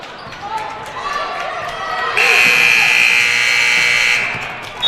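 A loud, steady end-of-quarter buzzer sounds for about two seconds over crowd noise and a ball bouncing in a high school gym during a girls' varsity basketball game.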